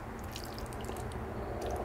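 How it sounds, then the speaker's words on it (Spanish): Water poured from a small container onto potted garden plants, a soft steady trickle and splash close by, quiet and alone without any talking. "Echarle poquita agua también."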